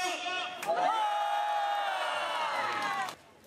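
A protest rally crowd in Gangdong's Godeok district, opposing the Bogeumjari housing designation, lets out a sustained collective roar of shouting and cheering for about three seconds, loud and close, before it drops away.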